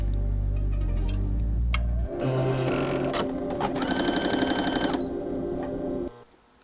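An old Japanese Universal Standard sewing machine whirs and clatters close up, running in bursts with a rapid mechanical ticking, stopping and restarting before going quiet.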